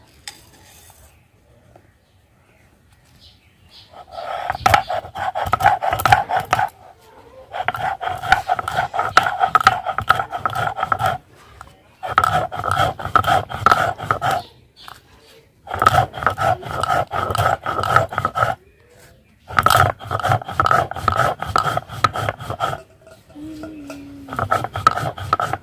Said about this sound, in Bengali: গোলমরিচটা গুঁড়া করে নিচ্ছি